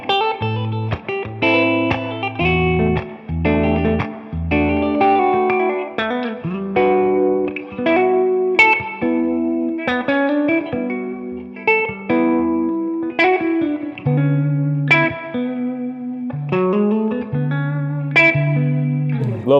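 A Gibson Custom '58 Reissue 335 electric guitar plays through a crunch tone between clean and distorted, a busy run of plucked notes and chords with mild drive and some reverb, loud and steady with no talking.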